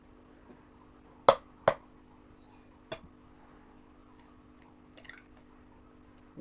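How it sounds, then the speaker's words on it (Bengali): Two eggs go into a winter-vegetable pancake batter. A pair of sharp cracks close together is followed by a softer tap and faint wet drips in an otherwise quiet room. "এখন আমি ডিমগুলো দিয়ে দিচ্ছি আমি ডিমটা ডিমগুলো দুইটা ডিম দিয়ে দিচ্ছি"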